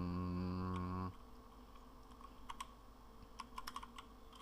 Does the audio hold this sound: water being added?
no